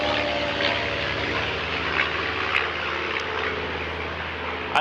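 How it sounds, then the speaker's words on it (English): A small propeller plane passes overhead near a rural island airport, its engine drone loud and steady with a pulsing propeller buzz, a couple of faint clicks in the background. "plane noise has always been tricky with these videos"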